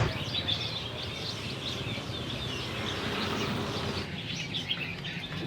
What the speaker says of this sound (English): So the birds here are sold as pets and not food